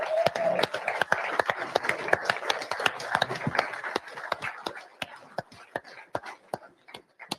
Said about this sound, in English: love to give you a round of applause